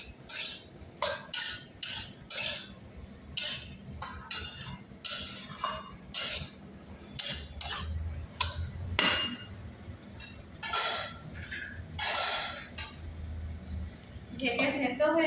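Masala okra with potatoes is stirred in a metal pot, with repeated metallic clinks, scrapes and knocks coming in irregular bursts while someone talks throughout.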